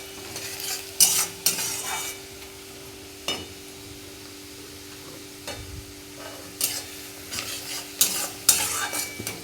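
Onions fry in a pan over a gas flame while a utensil stirs them, with soft steady sizzling beneath sharp intermittent scraping and clinking strokes against the pan, heard close up with no talking.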